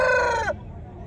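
A rooster's crow ends with a falling, drawn-out note at a country chicken market in Mydukur, Kadapa district, loud and close before cutting off into a low market murmur.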